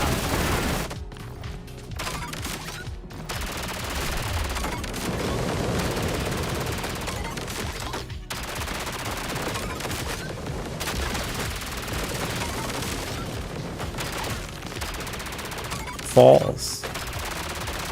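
Rapid gunfire from ODDCORE, a horror-style shooter game, crackles in dense continuous bursts for the whole stretch, with a sharp louder blast near the end and a voice speaking briefly over it.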